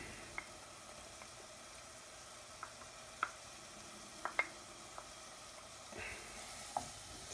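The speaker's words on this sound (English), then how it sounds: "I'm going to go ahead and add the minced garlic." Minced garlic sizzles with softened onions in a hot pan, a steady low frying hiss with scattered faint pops and crackles throughout.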